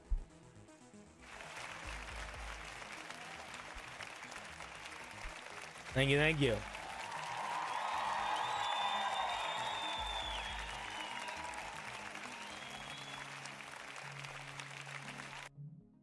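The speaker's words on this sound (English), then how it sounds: "Round of applause." A small group claps in brief applause, moderately close, with a person speaking over and after it.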